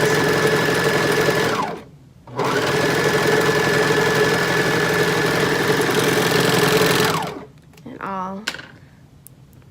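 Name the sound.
serger sewing a maxi skirt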